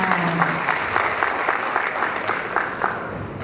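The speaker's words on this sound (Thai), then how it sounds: "ขอเสียงปรบมือด้วยค่ะ" An audience at a school speech contest claps steadily for the full stretch, a dense, even patter of many hands close by, with no talk over it.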